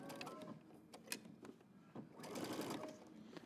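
A sewing machine top-stitches a seam on a jeans jacket in quick, rhythmic mechanical bursts that pause and resume, close and fairly quiet.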